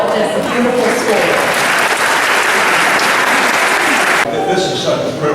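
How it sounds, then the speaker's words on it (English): Crowd at a school building dedication clapping loudly and continuously, a close, dense burst of applause that cuts off abruptly near the end. "give yourselves a round of applause"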